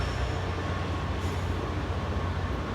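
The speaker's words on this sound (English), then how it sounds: "That is actually a train on the old remnants" A train runs along a rail line on the former Monsal Trail route near Buxton, Derbyshire, in winter, giving a steady, close, continuous rumble and wheel noise with no talk.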